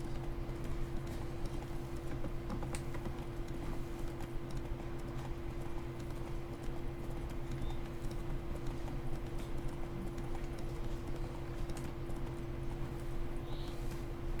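Roach, Geralt's horse in The Witcher 3, gallops along in a steady, rhythmic clip-clop of hooves that stays fairly quiet and even throughout, with no voices.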